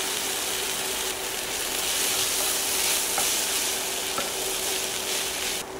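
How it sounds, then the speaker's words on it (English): Cooked noodles stir-fried in a pan with sprouts give a dense, continuous close sizzle. A couple of faint clicks of the utensil come through under it, with no voices. "now I will add my cooked noodles."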